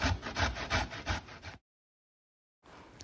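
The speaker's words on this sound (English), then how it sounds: "I'm using the medium side of the grater." Carrots rubbed against the medium side of a box grater make a quick, rhythmic rasping of about seven strokes, followed by a pause of silence and then a fainter scrape.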